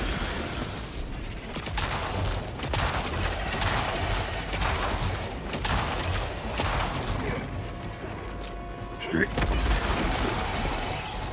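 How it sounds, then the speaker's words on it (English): Grenade blasts and gunfire in the Helldivers 2 video game, a dense, continuous barrage of booms and crackling shots with debris, loud throughout, with players talking over it. "Alright, I have two grenades. Throwing grenade!"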